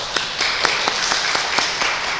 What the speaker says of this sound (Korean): 한번 은실 자리에서 일어나시면 우리 격려로 박수 한번 하면 좋겠습니다